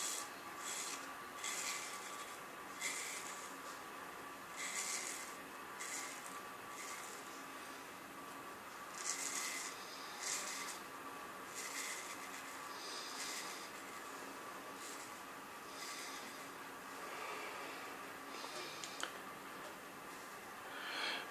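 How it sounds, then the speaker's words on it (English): A heavy SFK Wapiencia straight razor shaving skin, with repeated short raspy scraping strokes in a steady rhythm, close but faint, and no talking. "I'll just do a shave test on this today."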